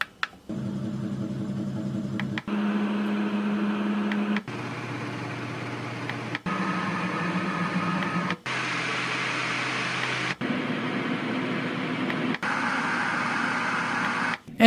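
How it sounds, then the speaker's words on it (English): A sound machine steps through seven fan settings, each a steady whirring hum lasting about two seconds, with brief clicks marking each change and no voices. "here's the 7 fan sounds"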